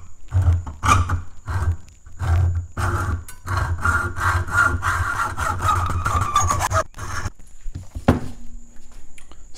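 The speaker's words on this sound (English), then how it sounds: "Just got a standard hacksaw, nothing special here." A standard hacksaw cuts an arrow point post at a groove with quick, close, rasping back-and-forth strokes in an uneven rhythm, briefly pausing and ending with a sharp scrape, with no voices.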